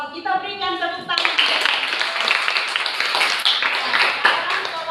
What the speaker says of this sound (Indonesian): Kelompok satu, kita berikan tepuk tangan.